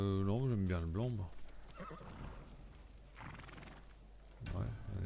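A horse in Ghost of Tsushima gives a loud, wavering neigh up close at the start. Quieter hoof and movement sounds follow, and a voice comes in near the end.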